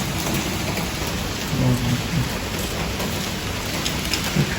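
Heavy rain falling in Antalya, a dense loud continuous hiss of drops on surfaces with low rumbling underneath, steady throughout and no voices.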